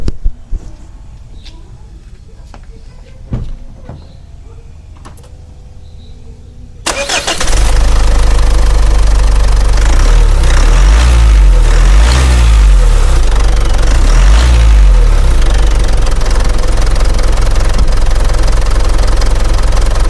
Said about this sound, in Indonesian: kita lanjut dengarkan suara mesinnya sebentar seperti apa